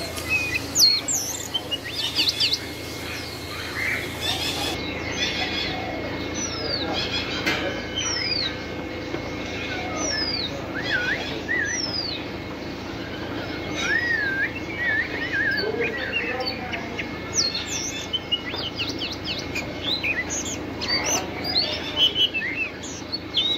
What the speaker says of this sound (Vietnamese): chú ta bắt đầu líu lo và hót nó hót, các bạn nghe chưa?